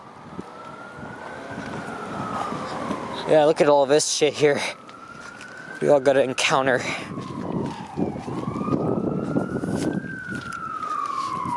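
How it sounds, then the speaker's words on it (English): A fire truck siren wails steadily throughout, rising and falling in the distance on a Toronto street, with someone talking over it partway through. "Yep, that's a fire truck heading east on Danforth."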